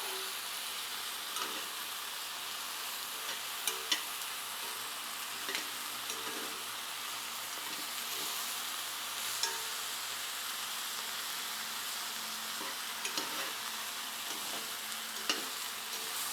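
Onion and garlic fry in a hot pan with a steady, bright sizzle, broken by occasional light stirring scrapes, close and unaccompanied by voices.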